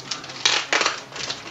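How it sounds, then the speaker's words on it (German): Scissors cutting through wire, three short crunching snips, close and moderately loud, with no speech over them. "das ist eine super Schere"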